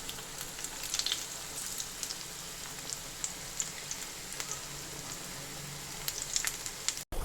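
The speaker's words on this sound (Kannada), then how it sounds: "ನೀವು ಇಲ್ಲಿ ಸ್ಟವ್ನ ಮೀಡಿಯಂ ಫ್ಲೇಮಲ್ಲಿ ಇಟ್ಕೊಂಡು ಫ್ರೈ ಮಾಡ್ಕೋಬೇಕು" Cauliflower pakoda fritters frying in hot oil on a stove at medium flame, giving a steady close crackling sizzle with scattered pops throughout, no talking.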